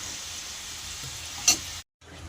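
Salted, turmeric-rubbed prawns frying in hot oil in a wok, a steady close hiss with one brief louder spatter before the sound cuts out for a moment and then resumes.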